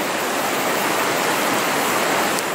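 A New Zealand creek flows with a steady, full rushing sound that stays close, even and continuous throughout.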